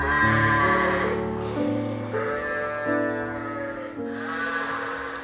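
Several sheep bleat in overlapping, wavering calls at a colored sheep farm in Minecraft, loud and close, one bleat following another without pause.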